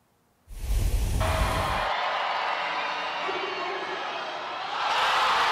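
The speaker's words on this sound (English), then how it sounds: "you can hear the crowd is going crazy" A hockey arena crowd at an ECHL game roars and cheers during the first intermission as someone wins a Nissan car, a sustained loud wash of noise after a brief voice at the start.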